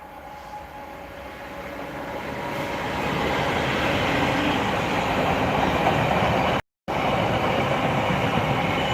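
A Class 66 diesel locomotive in Green Goblin livery passes on the West Coast Main Line north of Crewe, hauling a long train. A loud, sustained rumble with rhythmic wheel clatter builds up and holds close by, with no talk.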